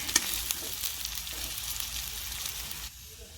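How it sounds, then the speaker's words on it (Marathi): Steady sizzling of rice being stirred in a hot wok, with a few scraping clinks early on, continuous and close, then briefly quieter at the end. "तर कढईमध्ये मी भात घातलेला आहे. आता आपण छान असं एकजीव करून घेऊया भात."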